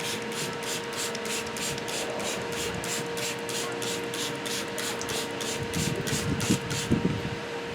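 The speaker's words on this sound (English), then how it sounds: "Let me go in here and shoot some iron remover on this side of the tailgate." Iron remover is sprayed onto a car's tailgate paint in a steady series of quick, hissing trigger bursts, with a faint background hum and some closer handling noise near the end.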